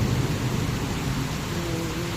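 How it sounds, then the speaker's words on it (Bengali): Heavy rain pours down in a dense, steady roar with a low rumble of thunder underneath, continuous and close for the whole moment, with no voices. "বৃষ্টিটা এতটাই জোরে পড়ছে বুঝতে পারছেন"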